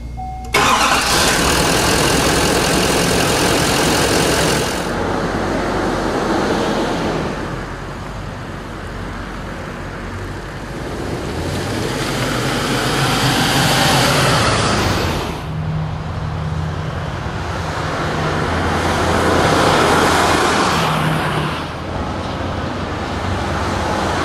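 A Chevy 2500 HD pickup fitted with an AirAid cold air intake starts up and pulls away, its engine rising and falling through loud revs and steady cruising with road noise underneath.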